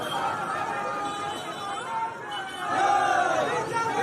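A crowd chants slogans at a BJP Parivartan Sankalpa Yatra procession in Arambagh, with people carrying flags. Loud outdoor babble and shouted chanting continue throughout, surging louder toward the end.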